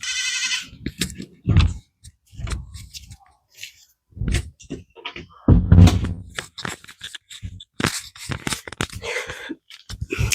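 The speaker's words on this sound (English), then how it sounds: "I have baby goats in my backyard right now, and they were screaming." Baby goats bleat and scream in a backyard, repeated loud, sharp cries in irregular bursts, close to the microphone with brief pauses between calls.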